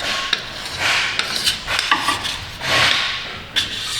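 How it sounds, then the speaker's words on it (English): A scraper is pushed across a rusty Subaru subframe to clean it, making repeated rough, gritty scraping strokes close by, with short pauses between passes. "It's a good little scraper."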